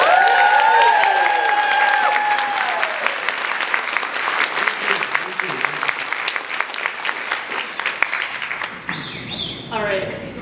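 Audience applause and cheering at the Transforming Day Services conference, a dense, loud crowd roar with a few voices calling out near the start, then thinning toward the end.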